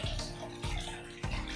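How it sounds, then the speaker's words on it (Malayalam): Running water splashing steadily over raw chicken pieces being washed, close and fairly quiet, with a few louder surges as the pieces are handled. "അങ്ങനെ നമ്മൾ ചിക്കൻ നന്നായി കഴുകുക"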